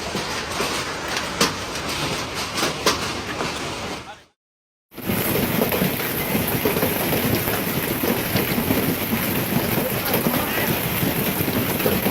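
Steady dense pattering of hail or heavy rain on surfaces, loud and continuous, with a brief silent gap partway through.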